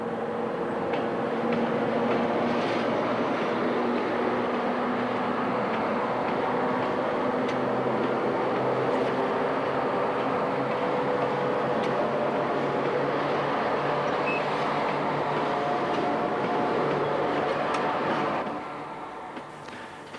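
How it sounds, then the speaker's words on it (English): A South African Class 7E electric locomotive hauls a train past, a broad continuous rumble and rolling roar that holds steady for most of the stretch before easing off near the end. "The Class 7E and 7E2 locomotives were built by a European consortium"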